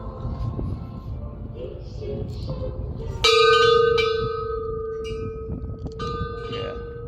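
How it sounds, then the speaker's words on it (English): A hand-rung bell strikes once with a clear, sustained ringing tone that slowly fades, then a lighter second ring, over steady outdoor rumble and murmuring voices. "Let's ring the stupid bell here."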